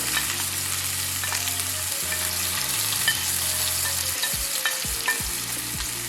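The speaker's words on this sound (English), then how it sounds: "So now that the pot is hot, I just saute everything together." Diced bell peppers, tomato, onion, parsley and garlic sauté in a hot pot, giving a steady close sizzle with scraping stirs throughout and a faint low hum beneath.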